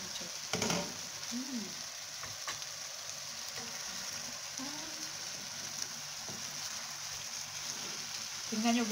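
Chicken adobo colored with annatto bubbles and sizzles steadily in a pan, with a soft continuous crackle, occasional stirring clatter, and brief voices in the background.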